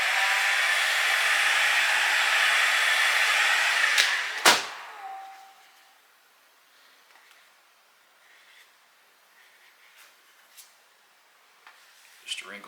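A heat gun post-heating vinyl wrap on a motorcycle helmet, a loud steady blowing roar for about four seconds that cuts off with a click, followed by faint handling sounds and quiet room tone.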